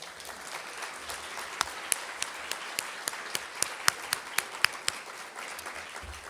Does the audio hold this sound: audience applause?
yes